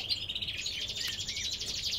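A goldfinch sings a rapid, twittering run of high liquid notes, continuous and fairly close, over faint background noise.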